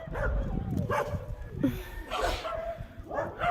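Street dogs bark and yip in short bursts at moderate distance, mixed with whimpers, while people talk over the outdoor background noise.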